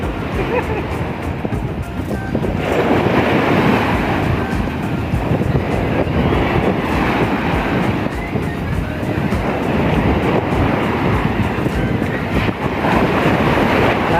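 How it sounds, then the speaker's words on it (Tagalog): Ocean surf rolls onto a beach in a constant broad wash, with gusty wind buffeting the microphone throughout. "Lalakas ang alon sa dalampasigan."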